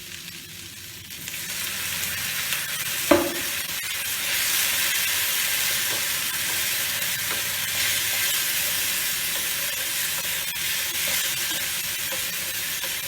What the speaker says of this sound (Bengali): জিরে গুঁড়ো দিয়ে একটু ভাজা ভাজা হবে, একদম জল শুকানো দেখতে পাচ্ছেন।